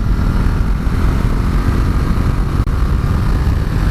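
A 2019 Ducati Multistrada 1260 Enduro accelerating hard on an open de-restricted road, its engine a loud, steady, full-bodied roar with continuous rumble and wind noise, no talk.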